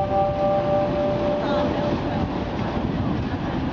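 A departing branded Kazan–Moscow passenger train at Kazan railway station, pulling out from track one: a steady, loud rumble of rolling stock with a thin tonal squeal early on, under indistinct voices.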